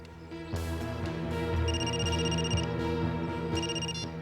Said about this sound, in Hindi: अभी अभी फोन आया